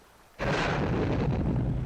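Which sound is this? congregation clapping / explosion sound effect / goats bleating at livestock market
explosion sound effect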